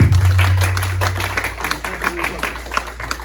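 A church congregation applauding, scattered hand claps building into a light, uneven round of applause after a low sustained tone fades out.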